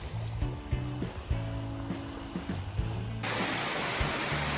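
A heavy rainstorm pours down in Saranda, Albania, as a steady hiss that swells abruptly into a louder, denser roar partway through.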